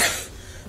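A single short cough from a person with a cold, fairly close and moderately loud, fading into quiet room tone.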